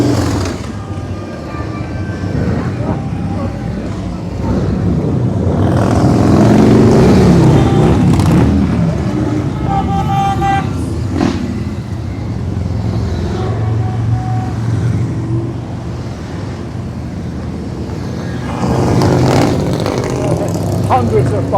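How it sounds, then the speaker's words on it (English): Harley-Davidson motorcycles ride past in a steady stream at a rally in Baildon, their engines rumbling and swelling nearby in waves as each group goes by, with people talking over the noise. "Hundreds of bikes, I mean, they just keep coming."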